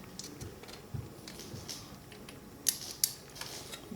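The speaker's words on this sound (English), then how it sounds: "I can go ahead and torque this bolt down" Quiet, close mechanical creaks and soft ratcheting clicks come from a torque wrench tightening the oil drain bolt on a KLR 650 motorcycle, ending in two sharp clicks as the wrench reaches its set torque.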